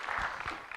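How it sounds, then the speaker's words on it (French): Brief burst of audience applause on a French talk show set in a café, a dense wash of clapping that holds steady at moderate loudness for under a second. "Applaudissements pour Naël Méded"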